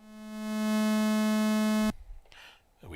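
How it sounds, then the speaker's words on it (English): A synthesizer oscillator set to a square waveform holds one steady buzzy, hollow tone that swells in and then cuts off abruptly partway through, leaving faint room noise and soft rustles. "And then we also have a square waveform."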